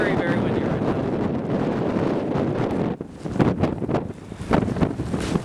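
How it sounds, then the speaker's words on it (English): Blizzard winds in Liberal, Kansas buffet the microphone in a heavy, continuous roar, then break into sharper separate gusts in the second half, loud and close. "Really high winds right now, really cold."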